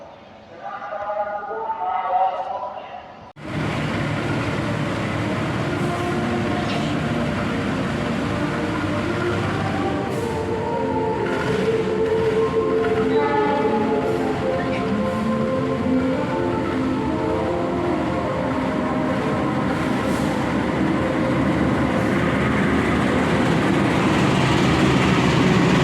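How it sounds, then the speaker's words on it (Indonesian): Bengawan passenger train at Lempuyangan station in Yogyakarta, a loud continuous rumble and rolling rail noise that starts abruptly and fills the rest of the clip, with a little talk before it begins. "menaiki kereta api Bengawan dari stasiun Lempuyangan tujuan ke Bekasi"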